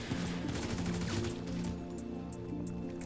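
Rapid automatic gunfire from a fast-firing gun in GTA V, a dense, loud fusillade of overlapping shots running continuously from start to finish.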